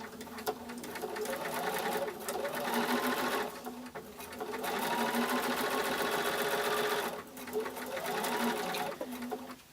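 A sewing machine stitches felt pumpkin pieces with a quarter-inch foot, running in a rapid, loud mechanical whir in three long bursts separated by short pauses.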